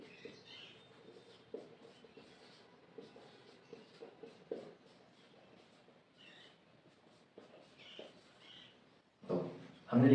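Pen or pencil writing out the English alphabet from A to Z on paper, soft intermittent scratching strokes with brief pauses, fairly quiet, ending in a louder rustle.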